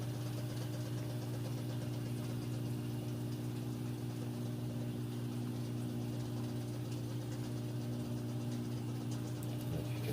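A Samsung front-load washer on its final spin gives off a steady, droning motor hum with a low tonal core. It runs continuously and fairly quietly, with no voices.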